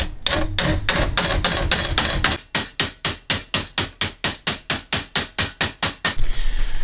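Rapid hammer blows bending the metal of a 1978 Ford F100 bedside, then a steady run of about sixteen evenly spaced, ringing strikes, loud and close.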